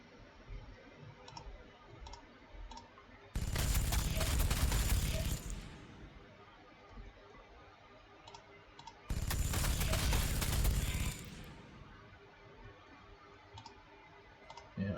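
Game gunfire in Warhammer 40,000: Sanctus Reach sounds as two loud sustained bursts of about two and a half seconds each, standing out above quiet background clicks and faint talk.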